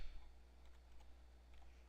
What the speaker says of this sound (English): and then we'll type in